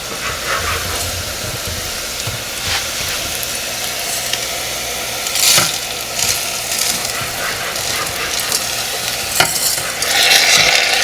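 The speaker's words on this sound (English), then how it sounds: "at this point, we're just going to fry our rice for a few" Washed rice is stirred and fried in a pot, with a continuous sizzle and repeated scraping strokes of a utensil, some louder bursts, and no speech.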